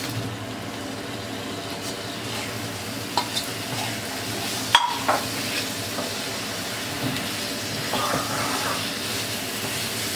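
Potatoes go into masala frying in oil for a Bengali hotel-style fish curry: a steady close sizzle runs throughout, with a few stirring scrapes and clinks partway, and no talking.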